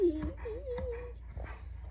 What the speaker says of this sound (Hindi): कुत्ता सो जा।